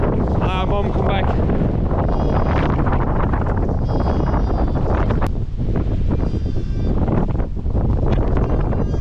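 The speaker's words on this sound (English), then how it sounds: "They're not worried about a bit of wind." Strong wind buffets an outdoor lambing field during Storm Kathleen, a loud continuous roar across the whole stretch, with faint sheep bleats early on and a voice talking under the gusts.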